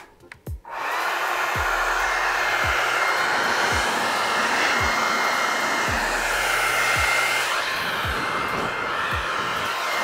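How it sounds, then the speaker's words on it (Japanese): A hair dryer plugged into a split-type BLUETTI portable power station roars with a steady, loud, broadband whoosh for nearly the whole stretch, after a short click at the start, with a faint low thumping pulsing underneath. "次、ドライヤー、これもやってみます。"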